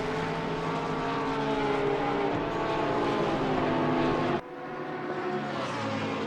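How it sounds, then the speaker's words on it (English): A 2018 Aston Martin V12 GT race car engine in Assetto Corsa Competizione at Monza sings at high revs with a steady, sustained roar, then a sudden drop and a lower, continuing drone as it shifts or passes. "There goes you can hear that V12 in the Aston Martin."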